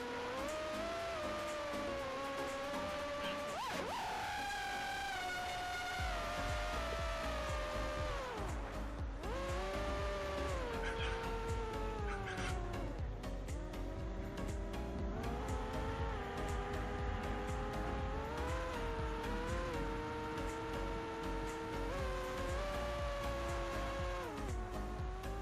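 Motors of a Geprc SKIP HD racing drone scream through a throttle punch-out, a loud continuous whine with layered harmonics sweeping up and down in pitch as the throttle changes.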